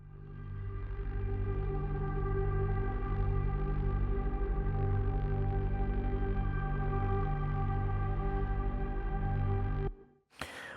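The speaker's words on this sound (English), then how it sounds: "So, here are the pads on their own." Layered Spitfire Tundra synth pads from a film score swell as a sustained, evolving chord held for about ten seconds, dense and steady, with an abrupt noisy cutoff at the end.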